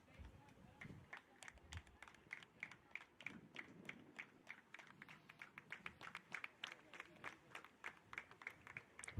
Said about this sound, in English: A few claps.